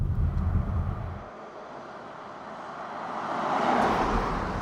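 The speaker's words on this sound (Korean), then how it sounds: "B5와 B6 엔진의 성능 차이는 어떤지 보시죠" A Volvo XC60 with a B5 or B6 48V mild-hybrid engine accelerates, a low engine rumble and road noise swelling into a broad rising whoosh as speed builds.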